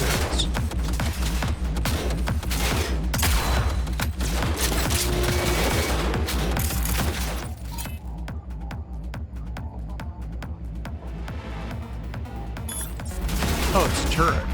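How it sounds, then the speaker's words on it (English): Rapid gunfire from a turret in Cyberpunk 2077 Phantom Liberty, a loud continuous stream of shots that drops out briefly in the middle and then resumes, with voices talking at times over the firing. "Oh, it's a turret."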